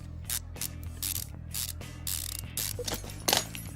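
Bolts being fastened onto a brake caliper in the video game Car Mechanic Simulator 2015, a series of short mechanical ratcheting clicks and whirs repeating in quick bursts over a steady low hum.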